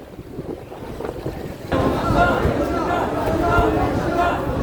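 A fishing trawler's engine drones near the water as it arrives at a landing ghat on the Meghna River, Noakhali, with wind gusting. The noise swells suddenly after a quieter start, and voices murmur underneath.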